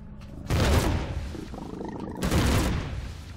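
Enemy gunfire strikes the player in Empyrion during a spaceport raid: two loud, heavy bursts of rumbling weapon fire, one at the start and one near the end, with a quieter stretch between them and no speech.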